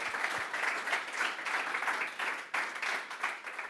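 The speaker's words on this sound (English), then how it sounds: "Big round of applause for this cool concept." Conference audience applauding after a talk on a studio stage, a moderately quiet but steady patter of many hands clapping with slight swells, heard from a distance without speech.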